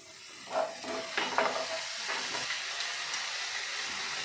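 Vegetables for veg fried rice fry in a pan as soy sauce is poured in, giving a quiet, steady hiss broken by a few short sizzling bursts and stirring scrapes near the start.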